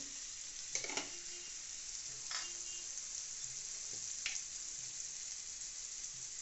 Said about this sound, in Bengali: আদা পেস্ট করা দিয়ে নাড়াচাড়া চলছে